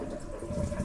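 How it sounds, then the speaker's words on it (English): A household toilet flushing after its water supply valve has been shut off for fitting a bidet sprayer T valve, water rushing and gurgling steadily from the tank, close and moderately loud for under a second. "flush the toilet all the way."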